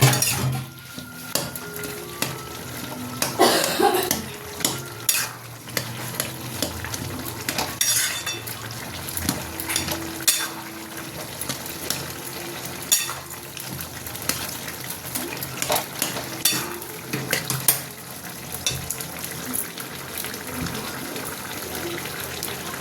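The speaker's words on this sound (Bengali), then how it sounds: "একটু সবজিগুলো ঘেঁটে দিতে হবে, নাহলে কুমড়োগুলো আছে না, তখন একটু ঘেঁটে দিচ্ছি" A utensil stirs pumpkin and mixed vegetables in a frying pan with some water still in it, giving repeated scraping and clinking against the pan, with soft simmering underneath and occasional louder knocks, close by.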